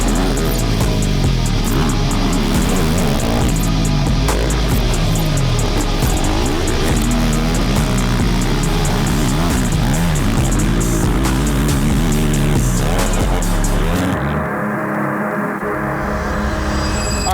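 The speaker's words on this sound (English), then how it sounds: "We are on the ATV again." ATV engine running loud and close, its pitch rising and falling with repeated throttle revs before settling to a lower idle-like drone near the end.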